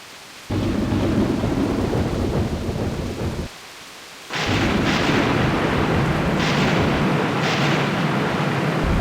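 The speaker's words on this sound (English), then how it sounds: "Yet the storm and rumblings only grew worse." A storm in Grandia II HD Remaster brings loud, sustained rolling thunder with heavy rain-like noise. The roar breaks off briefly and then returns with sharper cracks, and no one talks over it.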